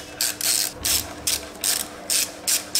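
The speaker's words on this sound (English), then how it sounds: "This is an 8mm socket to take it out." An 8mm socket on a ratchet loosens a brake caliper pin on a superbike, producing a close, crisp run of about eight rhythmic ratcheting clicks, each a quick metallic burst of pawl teeth.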